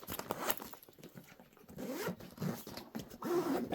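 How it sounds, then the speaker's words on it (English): A travel bag is zipped shut up close in several quick, scratchy pulls, each one short and crisp, with small pauses between strokes. "So I'm going to zip this up right quick."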